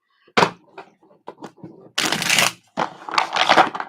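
Tarot cards being shuffled up close during a reading, loud bursts of riffling and card slaps separated by short pauses and a few lighter handling taps.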